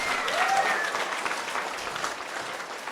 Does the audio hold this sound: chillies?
no